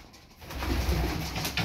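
Pigeons coo softly in a loft, a low murmuring burble that swells after a quiet start, with faint background hiss and rustling.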